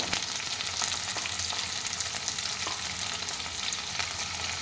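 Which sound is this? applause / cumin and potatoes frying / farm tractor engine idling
cumin and potatoes frying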